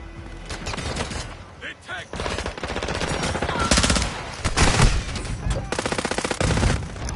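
Light machine gun fire in a video game, long rapid bursts that stay loud and dense throughout, with a voice speaking over the shooting.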